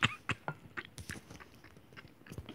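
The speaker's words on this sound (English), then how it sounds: "If we're all silent, we'll be able to hear him chewing" Crisp crunching bites of crackers during a stuffed-animal play game, a steady series of close, dry crunches at an irregular rhythm in an otherwise quiet room.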